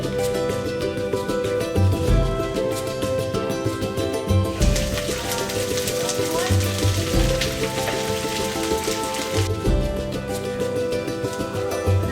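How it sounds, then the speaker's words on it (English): Beef and garlic stir-frying for a Chinese-Peruvian lomo saltado, a loud continuous close sizzle like heavy rain, with occasional spatula and pan clatter and no talking. "So we're just sauteing this."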